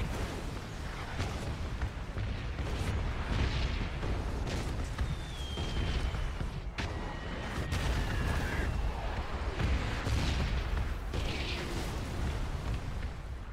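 Red-zone bombardment on the Erangel map in PUBG: repeated booming shell impacts and crackling blasts land around the player, some close and sharp, others dull and distant, with whistling streaks between.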